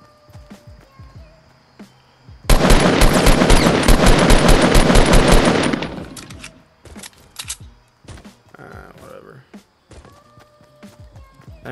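Gunfire in Fortnite: Battle Royale, scattered single shots and then a loud, dense automatic burst lasting about three seconds, followed by more sporadic cracks and thuds.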